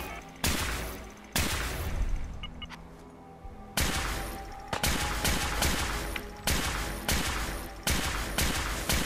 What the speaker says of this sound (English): I shoot him from above